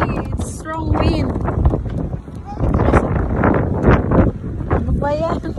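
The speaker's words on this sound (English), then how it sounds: "Windy today. Strong wind." Strong wind blowing outdoors, buffeting the microphone in loud, gusty rumbles while people talk over it throughout.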